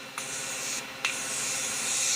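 Setting spray misted onto the face, heard as two short airy hisses about a second apart over a steady background hiss.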